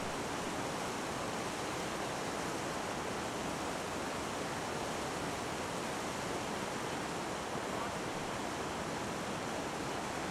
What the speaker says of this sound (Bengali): ঠান্ডা আছে এই জল কিন্তু হরি অবলীলাক্রমে তার জুতো খুলে খালি পায়ে দেখল এই জল অতিক্রম করে